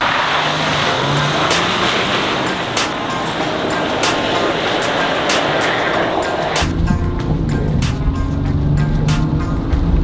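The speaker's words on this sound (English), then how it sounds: "this is my first time actually driving an EcoDiesel Gladiator" A Jeep Gladiator EcoDiesel pickup engine drones steadily as it drives, with a low diesel rumble and road noise filling the clip, the tone shifting partway through.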